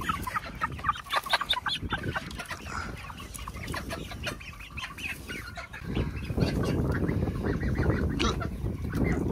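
Many pastured chickens clucking and squawking together, a busy, continuous flock sound close by that grows louder toward the end.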